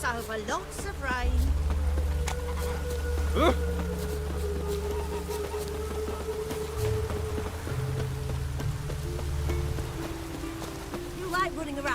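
Rain falls in The Witcher 3 as a steady, even hiss throughout, mostly under in-game character dialogue.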